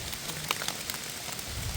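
Steady rain falls in a garden during red-mushroom foraging, a soft, even hiss of drops with scattered light patters and no voices.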